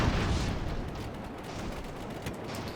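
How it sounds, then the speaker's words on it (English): Incoming rockets explode in Airships: Conquer the Skies in one continuous, dense roar of blasts and rumble that holds at a steady loudness throughout, with no talk. "it's them rockets that are coming in."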